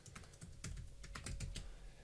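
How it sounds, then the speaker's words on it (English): Rapid computer keyboard typing while entering a VMware vCenter Server Appliance password, a quick irregular run of clicky keystrokes, close and fairly loud, with no voices. "So I'm typing in my VCSA password for the existing one."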